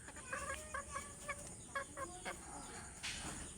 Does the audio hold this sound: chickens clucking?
yes